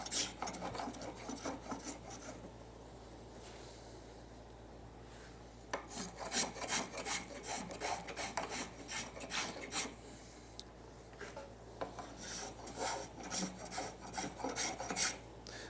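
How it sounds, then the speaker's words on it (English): A spokeshave shaves a wooden apron arch in a series of rhythmic rasping strokes, close and fairly quiet, with short pauses between passes and no talking. "the spoke shave will want to chatter and jump a little bit, especially with a harder wood"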